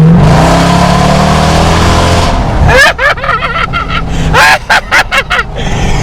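A Dodge Durango Hellcat fitted with an aftermarket exhaust revs up loudly and close, its engine note building for about two and a half seconds before talk takes over with the engine still rumbling beneath it.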